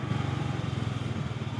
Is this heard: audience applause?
no